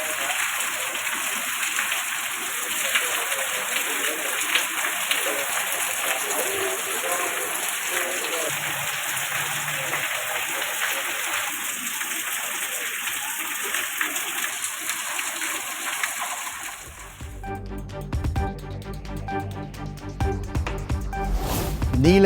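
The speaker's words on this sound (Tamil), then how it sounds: "உதகை மற்றும் அதன் சுற்று வட்டார பகுதிகளில் சுமார் 1 மணி நேரத்துக்கு மேலாக பெய்த கனமழை" Heavy rain lasting over an hour pours across Ooty and its surroundings, with rainwater flooding the roads; a steady, dense hiss of downpour and running water continues, then the sound shifts abruptly near the end.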